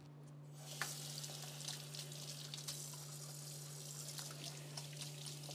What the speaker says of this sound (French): Je vais juste me rincer les mains.